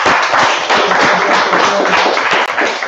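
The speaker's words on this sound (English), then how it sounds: "everybody, let's clap it up" A crowd at a Purim feast gathering claps in dense, loud applause that keeps up evenly for a few seconds.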